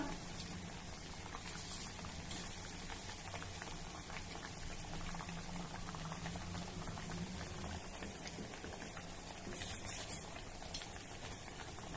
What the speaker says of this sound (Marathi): ह्या अगदी मस्त खरपूस तळून झाल्या